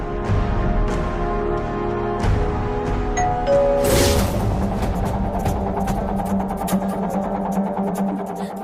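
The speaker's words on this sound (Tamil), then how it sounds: "அந்த காலிங் பெல் சத்தம் என் மொபைல்ல இருந்து வருது" A chiming electronic doorbell melody plays as a ringtone, a few bright descending tones, followed by softer background sounds.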